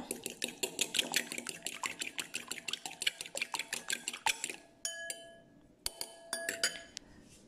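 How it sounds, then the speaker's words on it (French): Two eggs are beaten in a dish for a quiche, a fork clinking rapidly and rhythmically against the dish, then slowing into scattered taps near the end. "On bat 2 œufs"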